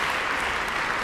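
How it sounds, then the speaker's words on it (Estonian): A concert audience gives big applause after a piano concerto performance, a dense, even roar of clapping throughout the short moment. "seda kõike saadab suur aplaus, nagu te kuulete ka juures olevalt helipildilt"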